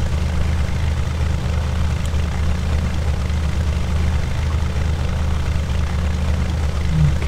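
A Cessna 172 engine idles at low throttle in a flight simulator game, a steady, loud propeller drone with a constant low rumble and no break for the whole stretch.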